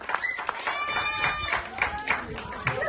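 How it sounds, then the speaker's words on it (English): Wedding guests clap and cheer for the newlyweds after their first dance, a lively patter of hands mixed with whoops and voices talking over it. "Let's give them a round of applause."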